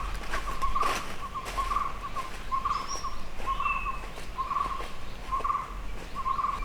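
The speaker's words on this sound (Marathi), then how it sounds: "चालताना वाटेवर पाखरांचे आवाज कानावर पडत होते." Birds call in a monsoon forest along a walking trail near a Konkan village, with a short chirping phrase repeating at a steady rhythm at moderate distance over soft background noise.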